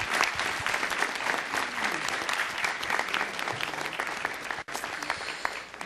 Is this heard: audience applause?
yes